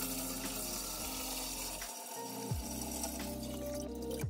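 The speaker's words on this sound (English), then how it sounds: "Start filling it with water." Water pouring into a turtle tank over sand, a steady rushing flow with a brief dip partway, fairly loud and close, no talking.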